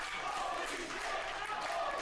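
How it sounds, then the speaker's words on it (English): Wrestling crowd at an East Bay Pro Wrestling event roaring and cheering continuously, a dense wash of distant voices heard at low level. "The crowd goes crazy."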